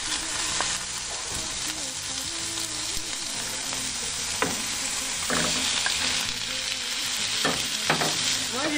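Meat sizzles and fries in a pan with turmeric while being stirred, a dense crackling hiss broken by scraping utensil clicks and clatters, with a faint voice now and then in the background.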